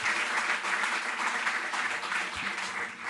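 An audience at a Delhi government sports assistance event applauds the deputy chief minister with sustained, dense clapping that holds evenly throughout and tapers slightly at the end.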